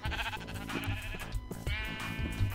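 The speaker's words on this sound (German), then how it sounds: "Jo, scheren wir mal wieder ein paar Schafe." Sheep in the video game Minecraft bleat several times in quick succession, loud and close, with no talking over them.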